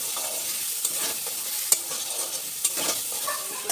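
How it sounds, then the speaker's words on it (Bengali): Salt, cumin, coriander, garam masala and black pepper stir-fried in a pan, a continuous bright sizzle with the spoon scraping and a few light clicks against the pan. "আর আমি ভালো করে কষিয়ে নেব।"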